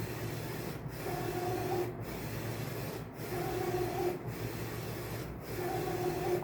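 A J16 printer prints a canvas, giving a steady mechanical whir with regular passes of the print head, about one every second, with short pauses between them. The sound is near and even, and no one speaks.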